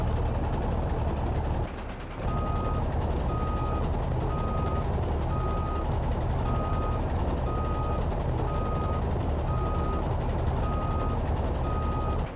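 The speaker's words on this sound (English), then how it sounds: "Now let's back that diesel beast off the pad." A diesel truck backs up in the Tonka Digs N Rigs video game. Its reversing alarm beeps in a steady, evenly spaced rhythm over a constant engine rumble, loud and close, and keeps going after a brief dip near the start.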